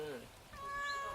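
A cat meows on request, one drawn-out meow close to the microphone against a quiet room, with a person speaking softly around it.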